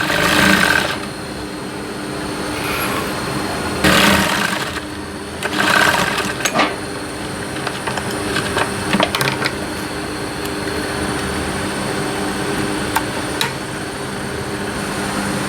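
A sewing machine runs in several short, close bursts as it stitches fabric for a square, open table-top pouch, with a steady hum and pauses between runs.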